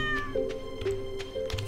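A cat in the Stardew Valley video game gives a few short meows, heard alongside game music and sound effects.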